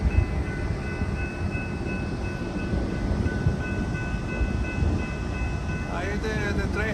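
A freight train rolls through the Main Street crossing in Grapevine, Texas, with a loud, continuous rumble of wheels and cars under a sustained tonal whine; a voice speaks briefly at the end.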